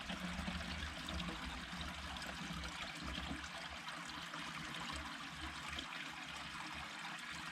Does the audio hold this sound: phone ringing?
no